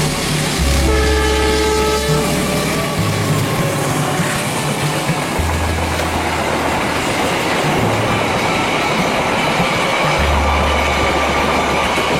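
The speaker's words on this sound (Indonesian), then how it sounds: "lokomotif CC206 berjalan sendiri ke arah Bangil" A CC206 diesel locomotive running alone toward Bangil rolls past loud and close, its engine roaring steadily while the horn sounds several long blasts, with wheels clattering and squealing on the rails.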